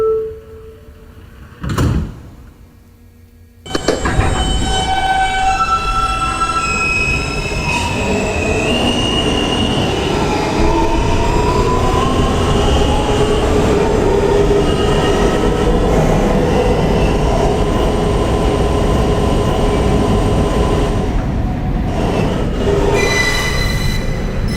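A New York subway N local, an R160 car, pulls away from a station after the doors thud shut, then runs loud and steady through the tunnel, with a sustained rumble and long, wavering wheel squeals throughout.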